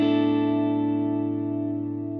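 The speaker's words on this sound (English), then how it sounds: "That's a lot of gain and distortion there." A single sustained electric guitar chord rings out heavily distorted and buzzy through a Fractal Audio Axe-Fx II effects unit, slowly decaying over a couple of seconds.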